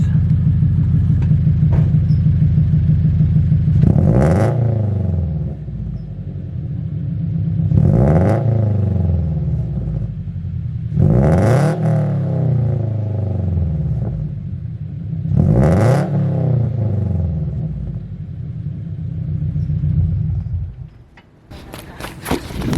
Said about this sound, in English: This is the BRZ with the stock front pipe and the Group S unequal length headers.